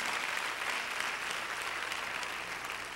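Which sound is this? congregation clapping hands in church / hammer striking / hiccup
congregation clapping hands in church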